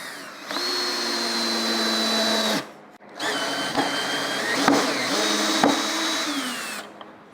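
Ryobi ONE+ HP 18V brushless cordless compact drill in low gear driving a standard Phillips screw, a loud whining motor running steadily, stopping briefly, then starting again with small clicks and load changes.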